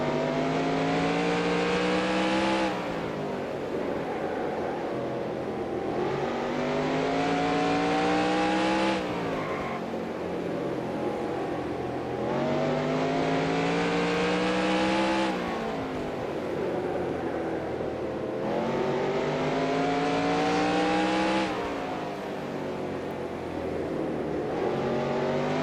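Race cars in NASCAR Racing 2003, a PASS North Series race at Chaudiere, roar past one after another, each engine note rising and then dropping away in a steady pattern of loud passes with no talk.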